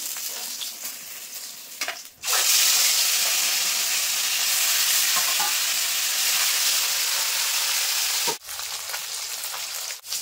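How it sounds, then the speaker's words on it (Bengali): Pieces of rohu fish frying in hot oil give a loud, steady sizzle that runs almost unbroken for several seconds, with quieter crackling before and after. "তুলে বাকি যে মাছটা আছে একইভাবে এখন লাল লাল করে ভেজে নেব।"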